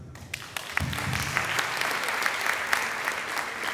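Audience at a reggae awards ceremony applauding, a dense, sustained wash of clapping that swells after a brief start and carries on steadily throughout.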